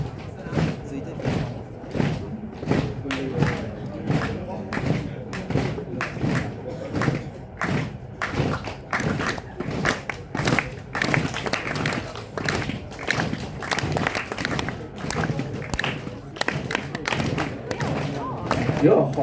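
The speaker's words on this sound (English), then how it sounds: "Now the rest of you have to clap your hands." A group of students in a music lecture clap their hands in a steady rhythmic pattern, sharp repeated claps at an even pulse that continue throughout, with some talking mixed in.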